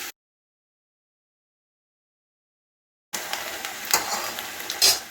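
Chickpea falafel dropped into hot oil for deep frying, a steady close sizzle with bubbling crackle after a stretch of silence, and a couple of louder spatters.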